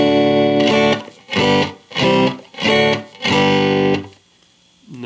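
Electric guitar through a Gibson GA-15 RVT amp with reverb at 5 and tremolo off: five loud strummed chords, each ringing about half a second before a short gap, with a dry decay at the end.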